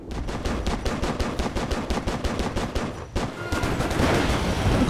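Rapid bursts of automatic gunfire in the video game Stranglehold, dense and rhythmic, with a short pause before heavier, sustained shooting resumes, loud and close.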